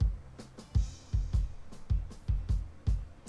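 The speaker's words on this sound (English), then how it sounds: "The kick out sounds like this without any plugins." Unprocessed kick drum from the kick-out mic in a Telefunken studio recording, a steady run of deep, punchy thumps roughly every third of a second with faint bleed from other drums between hits.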